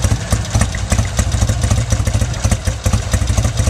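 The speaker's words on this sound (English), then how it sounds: "It's idling a little lower at first, like it should." A 1966 Triumph Bonneville motorcycle idles low and steady just after a cold start, its engine throbbing in a quick, even rhythm with a light mechanical clatter on top, loud and close with no talking.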